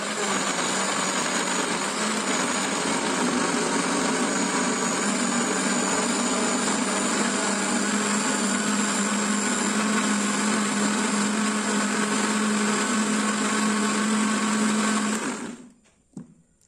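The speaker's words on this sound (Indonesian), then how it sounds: "tambahkan sedikit air dan blender hingga benar-benar halus" An electric kitchen blender grinds pepper and coriander with a little water for a green chili chicken dish, whirring loudly and steadily for about fifteen seconds before abruptly shutting off.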